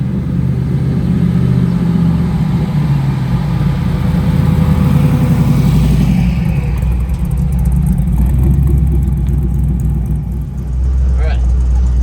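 A supercharged, LS-powered tow truck with a Hellcat engine runs loud and close, its deep engine rumble rising and falling through revs for the whole stretch, with the pitch shifting partway through and a person talking over it.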